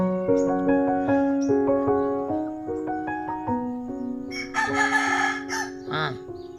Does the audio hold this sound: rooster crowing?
yes